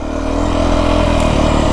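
A Beta 350 dirt bike engine drones loud and close, its steady revving motor note holding through a short burst on desert terrain with no talking.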